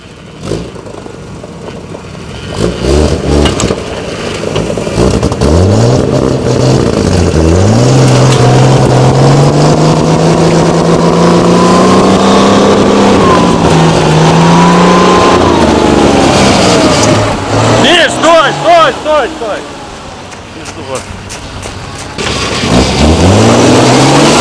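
A GAZ-63A truck engine works hard through swamp mud, revving loudly and up close with rising and falling pitch for over twenty seconds, then briefly easing off before revving again.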